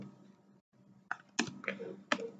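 Keys clatter on a computer keyboard in a few irregular bursts of clicks, close and fairly quiet, with a short pause before the sharper taps come in a loose rhythm.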